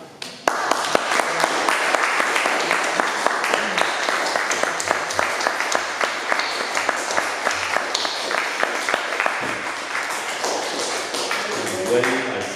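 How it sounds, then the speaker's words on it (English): Audience at a celebration-of-life gathering claps in sustained, dense applause with sharp individual claps standing out, fairly close, with a voice speaking briefly near the end. "Wade, I trust you know that applause is for you."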